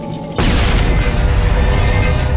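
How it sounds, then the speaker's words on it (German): A grenade detonates in the video game Mass Effect, a sudden loud boom followed by a sustained, rumbling roar of debris and noise that fills the rest of the moment. "Warten Sie auf die zeitgesteuerte Detonation oder drücken Sie R erneut, um sie explodieren zu lassen."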